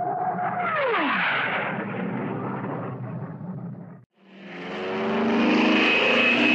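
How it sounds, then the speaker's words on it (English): A fast airplane sweeps past with a falling pitch as it passes, then after a brief gap a second loud, rising engine roar builds and holds. "This plane is fast."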